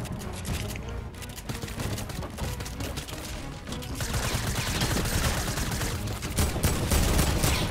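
Rapid gunfire from the video game Skite, including sniper rifle shots, crackling continuously and loudly through a busy match with dense overlapping bursts.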